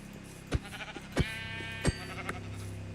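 Sheep in the Minecraft video game bleat three times in even succession, clear and close, each a short wavering call, with a softer fourth sound trailing off.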